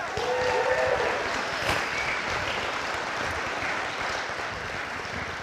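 An audience at an evening event with Jackie Joyner-Kersee breaks into sustained applause, a dense, even clatter of many hands that holds steady and fades gently.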